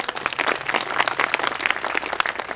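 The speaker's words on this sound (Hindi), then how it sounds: "अभी एक बार मैं जबरदस्त ताली चाहूंगा गुरुदेव के लिए जो टीचर हैं हमारे" Loud, dense applause from a crowd at an RCM business celebration programme, honouring a teacher, sustained clapping filling the whole stretch with no talk over it.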